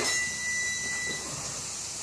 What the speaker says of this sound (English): Hear that sizzling? That's what you want to hear.